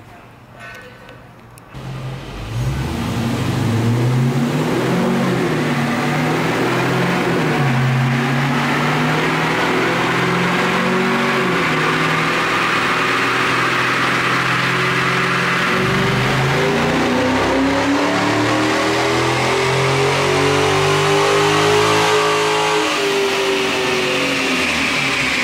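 A car strapped down on a dynamometer for a power run revs hard and loud after a brief quieter start, its engine tone climbing, wavering and rising again over more than twenty seconds, with some voices faintly underneath.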